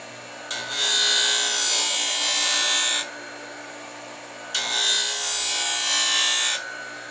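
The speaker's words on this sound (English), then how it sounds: "And I can go look to see how it's cutting." Blademaster SPB 850 portable sharpener grinding a carbon steel skate blade: two loud, sustained hissing grinding passes of about two and a half and two seconds, separated by a quieter gap with the motor hum.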